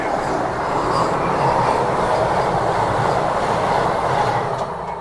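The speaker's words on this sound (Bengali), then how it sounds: "তবে আমাদের ট্রেন ফের ছেড়ে দিয়েছে" Express train, the 12863 SMVT Bengaluru Superfast Express from Howrah, rolling on rails after pulling away from a signal stop, a loud continuous rumble with faint wheel clatter heard from inside the coach.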